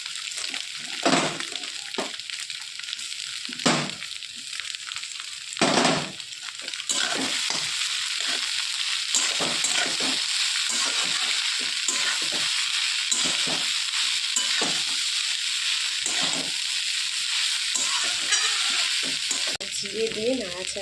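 Flattened rice being stir-fried in a pan with egg and raisins, opening with bursts of scraping stirs and then a loud, continuous sizzle punctuated by rhythmic spatula scrapes, close up.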